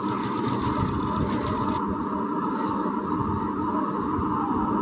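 A sewing machine running steadily and loudly, stitching the sleeve hem of a long frock, a continuous motor hum with no pauses and no voices.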